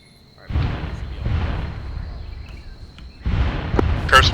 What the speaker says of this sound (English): Airstrikes are coming in.